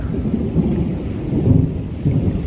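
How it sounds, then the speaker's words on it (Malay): A deep, heavy rumble of thunder rolls steadily through a storm just after rain in Changi, Singapore, loud and continuous with no talking. "setelah hujan tadi petirnya begitu dahsyat sahabat"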